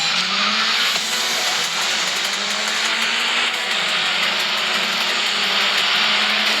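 A car, nearly stock, picks up speed in a video game, with a steady, loud engine roar and tire-like hiss running continuously and rising slightly in pitch.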